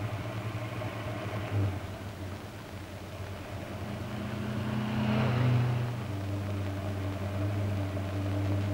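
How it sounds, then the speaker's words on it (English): A cold car engine, of early-1970s Australian vintage, runs steadily at a fast idle while it warms up, a continuous low hum with a faint rise in the middle and no voices over it. "It's bad to rev a cold engine, so we let it run at a fast idle to warm up."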